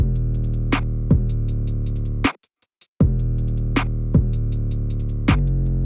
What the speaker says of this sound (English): And then we have the snare, which sounds like this.